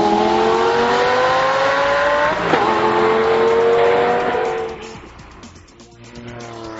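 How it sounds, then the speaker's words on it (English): A Lamborghini Gallardo Superleggera, an all-wheel-drive supercar, accelerates hard on a racetrack, its engine note climbing steadily and loudly through the revs before easing off near the end. "put the car in gear, switch off the stability control, engage the sport mode, release any pressure on either pedal, and then stomp on the gas"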